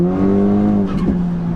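A high-mileage VW Golf Edition 30 with a worn-out clutch drives along, its engine giving a steady, loud droning hum with stacked harmonic tones that dip and waver briefly partway through.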